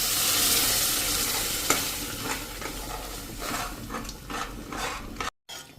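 Boiled panchratna dal is poured into hot tempering in a pan and stirred, giving a loud burst of sizzling and frying that then settles into repeated scraping stirs under continued sizzle.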